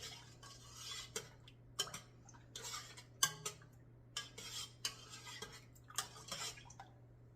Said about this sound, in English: We're going to give it a quick stir, just to incorporate that into the milk.